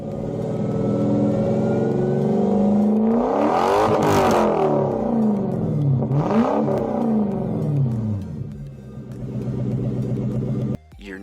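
A 1992-2000 Lexus SC 400 V8 fitted with stainless steel straight-through mufflers revs loudly and close up, rising through two sharp throttle blips in a deep, sustained exhaust roar before settling and cutting off abruptly.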